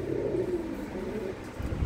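Pigeons kept by a hobbyist in Tangra village near Amritsar, including red pigeons, coo in a low, steady murmur that runs through the moment with no voices.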